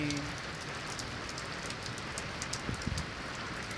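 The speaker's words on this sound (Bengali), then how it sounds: "দেখেন কি বৃষ্টি," Heavy rain pouring down in Saudi Arabia, a dense, even roar of drops hitting surfaces nearby, with a few sharper taps near the end and no talking.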